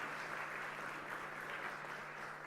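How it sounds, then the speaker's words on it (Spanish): Steady, dense applause from an audience at a university education faculty event, a continuous wash of many hands clapping, faint and distant with a constant low hum underneath. "le damos un fuerte aplauso a los 13 ponencistas que estuvieron hoy día con nosotros"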